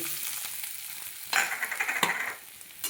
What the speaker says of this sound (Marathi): तेल तापल्याच्या नंतर ह्याच्यामध्ये आपण एक कांदा चिरून घेतलेला आहे. तर एक कांदा आपण हे टाकून घेऊ.